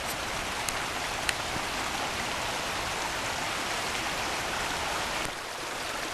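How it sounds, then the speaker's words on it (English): A creek flows right nearby beside a campground, giving a steady, close, even wash of running water throughout, broken by a few faint ticks and no talking. "It's actually a creek right down here."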